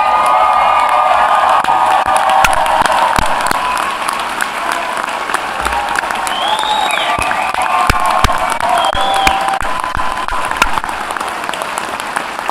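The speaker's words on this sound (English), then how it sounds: "get on your feet and give them a round of applause for achieving what they did." Loud, sustained applause from a large commencement crowd honoring college graduates, with cheering and whoops rising over steady clapping throughout.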